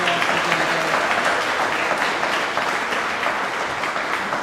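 Steady, loud applause from a crowd at an annual chamber of commerce dinner, honoring the organizing committee; continuous dense clapping throughout with no voices.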